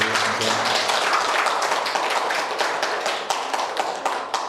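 An audience at a Korean community rally in Auckland claps for a young man, a dense run of sharp hand claps with a loosely regular beat, loud and close, continuing throughout with no talking over it.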